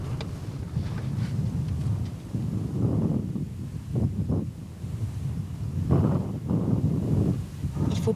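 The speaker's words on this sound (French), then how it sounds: "Ils essaient de se mettre à l'abri du vent parce qu'aujourd'hui, ça souffle vraiment très fort." Heavy wind gusts blast against the microphone, rising and falling in low, rumbling surges throughout.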